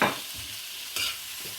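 Seasoned fish being stirred in a pan with a little olive oil, two brief scraping strokes over a soft sizzle, close and unaccompanied.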